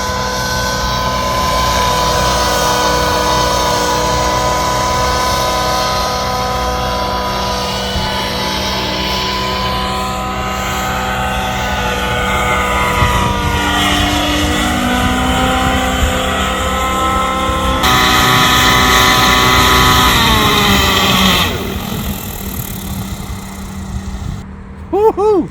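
A nitro-powered RC airplane engine screams steadily through a flight over a park, its whine rising and falling in pitch as the plane passes and turns, loud throughout before a brief drop near the end.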